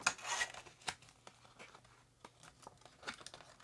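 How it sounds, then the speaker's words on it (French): A sheet of junk-journal paper cracks and crinkles as it is folded in half, with close, dry rustling bursts that are sharpest at the start and quieter scrapes after. No one speaks. "il craque celui-là. Le papier il casse."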